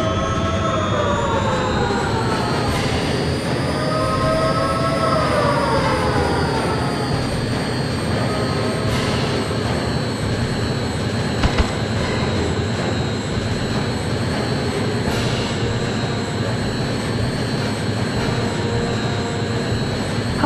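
Harrier jet engine roaring in jet mode in the PlayStation game Eagle One: Harrier Attack, a loud steady whine and rumble with shifting high tones that holds for the whole stretch, no talk over it.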